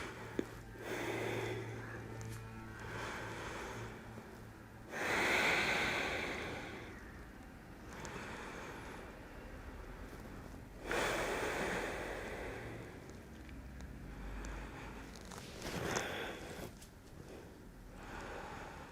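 Slow, deep breathing in a relaxation pose during a pilates class, long airy inhales and exhales that swell and fade at intervals of several seconds, close to the microphone and breathy, with no talking.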